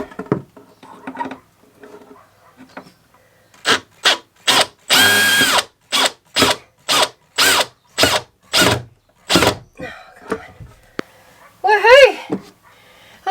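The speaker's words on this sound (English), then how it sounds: "let's see if we can get this screw in" A power drill drives screws up into a timber benchtop from underneath in a bus kitchen, with a string of short, loud whirring bursts in quick succession, one longer run, and quiet talking before and after.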